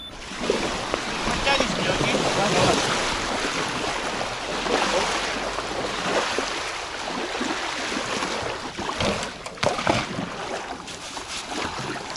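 A sailing boat approaches across open water outdoors, heard as a steady wash of water and wind noise with occasional splashes and knocks growing slightly more distinct.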